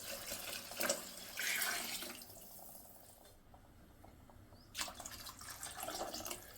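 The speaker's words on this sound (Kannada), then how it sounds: "ಇವಾಗ ನೀರು ಹಾಕ್ಕೊತಾ ಇದ್ದೀನಿ." Water is poured into soaked rice for mushroom biryani. Two close splashing, gushing pours are separated by a brief quiet pause, with no talking.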